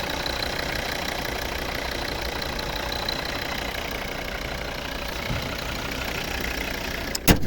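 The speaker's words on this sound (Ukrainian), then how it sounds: "Рівно, тихо, плавно, еластично працює цей двигун." A 2012 Volvo V40 2.0 D3 diesel engine runs at a steady idle with an even, low rumbling chug, ending in a brief sharp knock.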